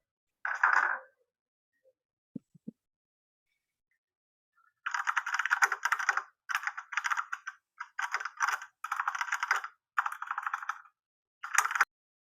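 Keys clatter on a computer keyboard in a quiet room, with a short burst first, then several rapid bursts of typing separated by brief pauses, close and clear with no talking.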